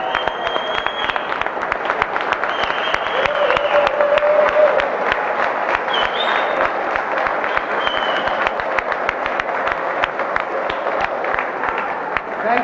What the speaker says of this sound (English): they really deserve a round of applause